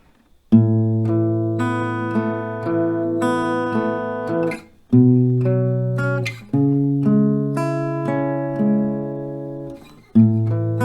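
Acoustic guitar picking the melody line of a song, clear plucked notes ringing out in short phrases, each group of notes struck firmly then left to sustain and fade, played alone and close without any voice.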